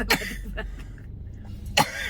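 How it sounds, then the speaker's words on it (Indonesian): Two short, harsh coughs sound close by, one at the start and one near the end, separated by a quiet pause. "Berbatuk-batuk."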